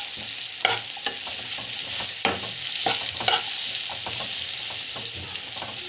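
Ingredients for a protein laddu fry and sizzle steadily in a pan, a continuous close hiss broken by scattered stirring scrapes and light clicks, with no voices.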